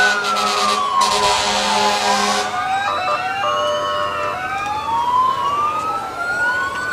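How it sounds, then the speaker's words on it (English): Salem Memorial Hospital ambulance moving through a Fourth of July parade in Salem, Missouri, its siren wailing loudly up and down close by, with short horn blasts at the start. "Our Salem Memorial Hospital ambulance coming through as part of our parade this year."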